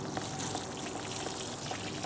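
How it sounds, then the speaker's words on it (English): Water drains from a DIY worm compost bin in a faint, steady trickle that runs without pause, quiet and close, with no one speaking. "And I can hear it dripping now"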